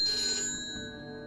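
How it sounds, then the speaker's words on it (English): Telephone ringing in the video game Alekhine's Gun, a short burst of bright electronic bell tones that fades out within about a second, no talk. "Ring, ring."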